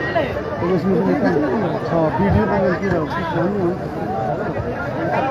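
Restless crowd at a large political rally in Tandwa, Siwan district, a dense continuous babble of many overlapping voices, loud and close throughout, with no single speaker standing out.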